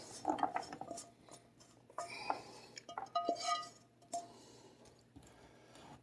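Candied almonds tumble onto a pan in a home kitchen, giving a quick run of light clinks and rattles. The clatter is fairly quiet and close, with soft handling noises between the bursts.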